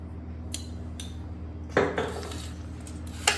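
A metal spoon clinks a few times against a bowl while salt is added to millet-flour batter, with sharp distinct taps over a faint steady background hum.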